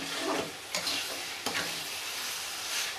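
Elephant foot yam stalks and prawns being stirred in a frying pan, with a steady broadband sizzle and a few sharp scraping strokes of the spoon, close and moderately loud, no talking.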